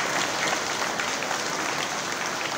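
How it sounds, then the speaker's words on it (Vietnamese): Steady applause from a church congregation carries on at a mass for a parish feast day, a dense, even clatter of many clapping hands with no pauses. "Lại tiếp tục vỗ tay."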